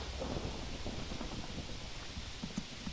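Minecraft thunderstorm with steady heavy rain and low rolling thunder, a dense continuous wash of sound at moderate level with no talk.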